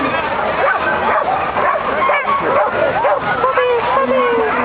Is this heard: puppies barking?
yes